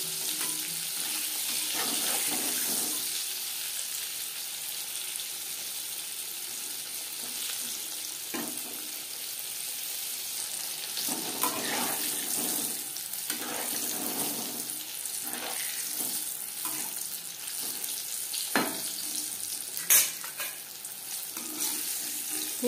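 Chicken pieces for crispy chicken fry sizzle in hot oil, a constant close frying hiss with occasional sharper crackles and pops.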